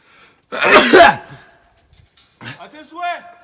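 A single sharp sneeze bursts out loudly and close, followed after a pause by a few quiet vocal sounds.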